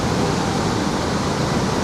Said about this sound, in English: This is High Force Falls.